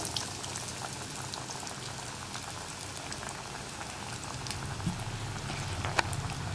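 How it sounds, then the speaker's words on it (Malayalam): Coated kappa (tapioca) cutlets bubble in a shallow pan of hot oil, two at a time, a soft, even crackling and fizzing throughout with a few sharper pops. "നമ്മൾ കോട്ട് ചെയ്ത് വെച്ചിരിക്കുന്ന കട്ട്ലറ്റുകൾ ഓരോന്നായിട്ട് എണ്ണയിലേക്ക് ഇട്ട് കൊടുക്കുക"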